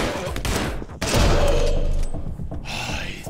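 Gunfire in the first-person shooter Anger Foot, a dense burst of loud close shots with heavy thuds and a sharp crack partway through, followed by quieter scattered shots.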